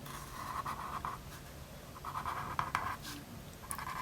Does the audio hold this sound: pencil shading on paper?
yes